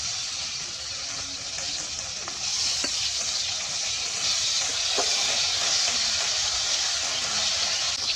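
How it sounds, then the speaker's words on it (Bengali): Freshly caught pond fish fry in hot oil with a steady, loud sizzle throughout, broken by a few sharp pops and crackles, close by and without talk. "মাছটা ভাজা হয়ে গেছে, আমি তুলে নেই।"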